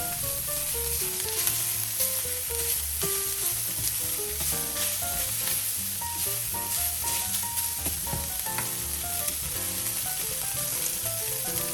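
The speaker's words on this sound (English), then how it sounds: "Got that nice and hot with some oil, and I'm going to finish off the sear in here." Cheesesteak meat sears in a hot, oiled pan, a steady sizzle playing under prominent background music for the whole stretch.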